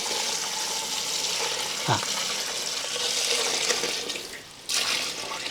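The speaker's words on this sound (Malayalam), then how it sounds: "ആദ്യം തന്നെ നമുക്ക് കുറച്ച് വെള്ളം ഒഴിക്കാം." Water poured into a copper pot of grapes during juice preparation, a steady close splashing and running-water wash that continues throughout, briefly dipping before resuming.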